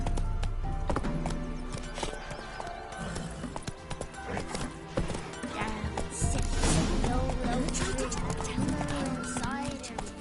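Roach the horse gallops in a video game, steady hoofbeats clattering throughout at close range beneath a person talking.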